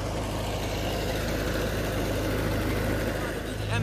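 A generator runs near a desert safari ATV stop, giving a loud, steady low engine hum with an even idling drone that carries through the whole stretch without a break.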